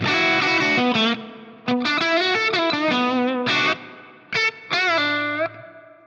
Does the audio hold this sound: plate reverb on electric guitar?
yes